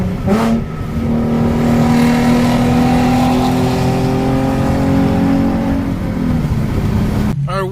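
A Nissan Z car, a 350Z or 370Z, pulls away on the road, its engine droning loudly and climbing in pitch as it accelerates through the gears, heard from close up inside the car.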